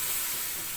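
Tomatoes added to onions and spices sizzling hard in a hot pan, a dense continuous frying hiss close up.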